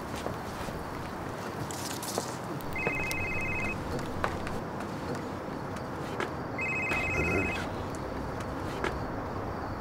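A telephone rings in two short electronic bursts, a few seconds apart, over steady room noise and shuffling footsteps.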